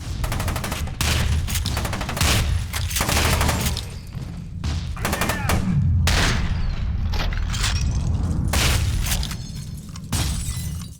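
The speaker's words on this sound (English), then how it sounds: "The shotgun in F.E.A.R 2, it feels like a Nerf gun in comparison." A shotgun fires repeatedly in the shooter game F.E.A.R. 2 amid loud combat. Blasts burst out one after another with breaking debris and crashes, forming a dense, continuous barrage with brief lulls between shots.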